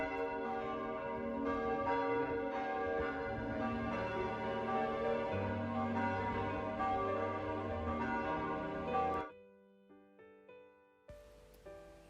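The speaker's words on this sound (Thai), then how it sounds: "ก็จะมีเสียงระฆังแบบนี้ค่ะ" A small village church bell in Germany rings in a steady stream of layered, resonant tones that overlap and sustain, then stops abruptly, leaving faint scattered knocks and a quiet room.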